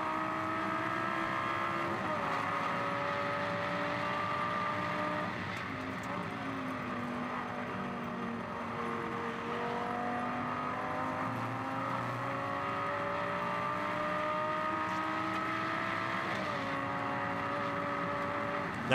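A Lamborghini Super Trofeo race car at Silverstone accelerates up through the gears. A loud, steady engine roar climbs in pitch, drops at each upshift, and climbs again, heard at length with no voices.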